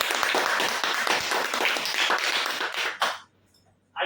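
Audience clapping for a fourth-place prize winner at a Shree Ganesh Marketing lucky draw, a dense burst of applause lasting about three seconds that cuts off sharply, leaving a brief quiet gap before another short burst.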